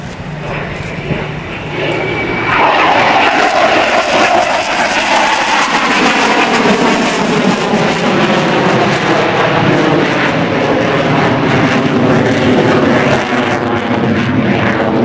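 An F/A-18C Hornet jet roars past at an airshow at NAS Oceana, a loud sustained engine rush that swells after two seconds and holds steady with a sweeping, shifting tone as the aircraft repositions along the show line.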